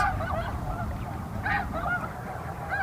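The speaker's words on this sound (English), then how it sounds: "That's where I found these snow geese." Several snow geese honk repeatedly at a moderate distance, their nasal calls overlapping above a low, steady background rumble.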